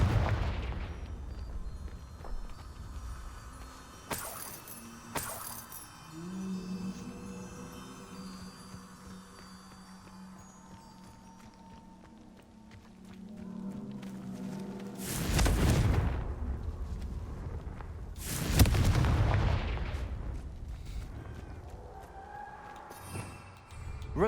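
Spell explosions from the Confringo curse in the video game Hogwarts Legacy, with two loud booming blasts a few seconds apart over quieter game ambience and scattered smaller pops.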